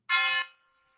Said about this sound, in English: We have chimes.